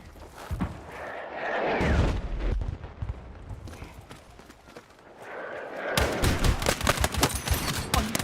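Mortar and gunfire in a Battlefield video game: a heavy, chaotic barrage of rapid shots and booming blasts, loudest near the start and again in a dense closing burst of firing.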